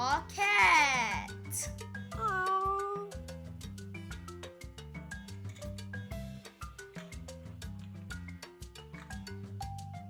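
A cat meows with a rising, wavering cry, then a child-like voice speaks over a bouncy, plucked musical backing that keeps a steady beat.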